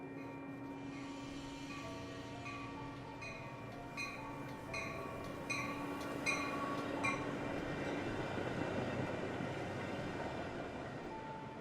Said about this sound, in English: we decided to visit the main train station in Przemysl